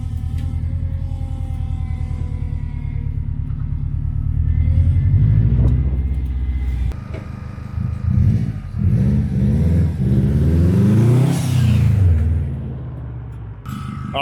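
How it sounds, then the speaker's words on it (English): A built Subaru GC8 RSTI engine rumbles close by while the car is driven, droning steadily and then rising and falling through several revving accelerations. "Now the engine sounds pretty good."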